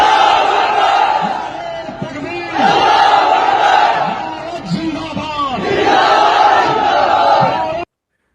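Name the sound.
crowd of protesters chanting slogans in the street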